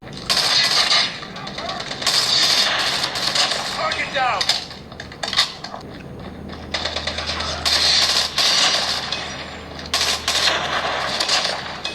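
Bursts of rapid gunfire and explosive shots from a mobile game played on an Infinix GT 10 Pro 5G phone, loud and clustered in rapid volleys with brief gaps, over a low background hum.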